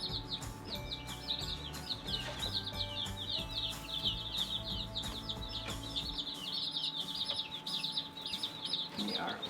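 Dense chorus of baby chicks peeping continuously from a batch of 29 newly arrived birds, high rapid chirps layered close by with some soft clucking and rustling underneath, steady throughout.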